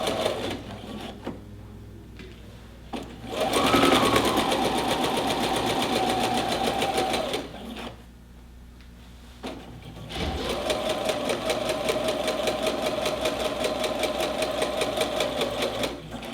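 A sewing machine stitches a seam in two bursts of rapid, even mechanical chatter, each several seconds long with a short pause between, close and clear with no talking.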